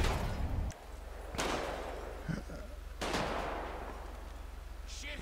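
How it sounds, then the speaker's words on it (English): Gunfire in GTA V with the LSPDFR police mod, a few sharp bursts near the start and around three seconds, over a steady low engine-like drone with a voice briefly in between. "Shots fired! Shots fired!"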